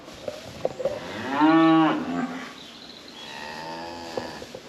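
Newly delivered, freshly weaned cattle mooing on a farm: one loud, drawn-out moo near the middle, then a fainter, longer bellow afterward, with scattered knocks and rustling in between.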